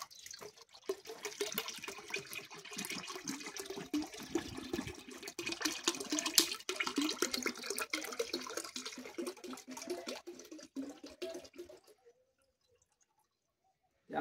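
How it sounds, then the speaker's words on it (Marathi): One litre of liquid Gokrupa Amrut culture is poured into a container, making a steady, close, gurgling stream of liquid for about twelve seconds before it stops abruptly into near silence. "आपण हे 1 लिटर गोकृपा अमृताचं कल्चर यामध्ये टाकत आहोत।"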